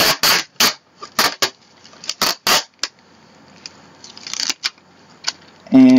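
Cheap packing tape peeled off its roll in a series of sharp, crackling rips, several short bursts with pauses between, close and fairly loud, ending in a brief tonal squeal.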